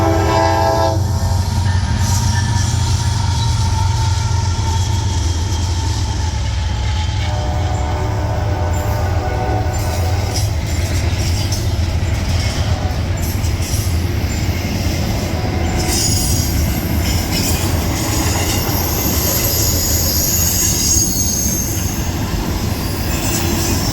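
Night freight train 264 rolls past, with a loud horn blast at the start, a heavy low rumble, squealing wheels and clattering cars going on continuously nearby.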